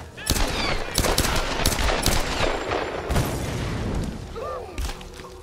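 Rapid bursts of automatic gunfire and heavy booms from a Tomb Raider shootout, loud and dense throughout with sharp transients, and a voice briefly shouting over the fighting.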